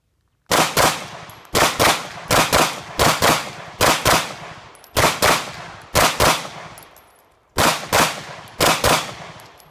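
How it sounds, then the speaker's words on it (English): A dozen sharp handgun shots fired from the low ready position in a training drill, loud and close, coming in quick pairs and short strings with brief gaps between them. "I'm just gonna shoot it from the low ready position."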